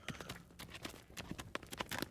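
Horse hooves clip-clopping in a fantasy audio drama, a quick uneven patter of hoof strikes at a walk or trot, fairly faint and steady without speech.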